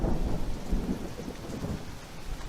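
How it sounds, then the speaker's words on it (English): Torrential rain pours down steadily with low thunder rumbling underneath, a dense continuous wash of heavy downpour with no voices. "Before long, a torrential Dehradun downpour began"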